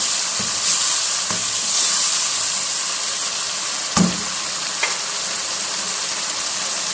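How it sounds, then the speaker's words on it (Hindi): Tomatoes fry on high heat for a traditional Lahori-style chicken jalfrezi, giving a steady loud sizzle with a few sharp utensil clanks and stirring knocks scattered through it. "ये टमाटर को हमें 1 मिनट के लिए तेज़ आंच के अंदर रहने देना है।"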